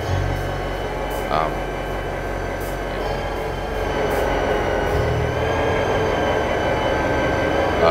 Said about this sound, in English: And as you can see, you're hearing train sounds.